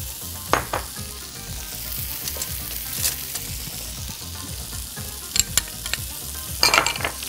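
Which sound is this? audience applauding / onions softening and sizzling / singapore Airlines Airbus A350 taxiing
onions softening and sizzling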